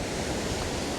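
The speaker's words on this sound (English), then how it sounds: "capture some of the waves crashing up over this rock just here" Sea waves crashing over a rock at Groudle Glen on the Isle of Man, a loud, continuous broadband wash of surf with no pauses, close by.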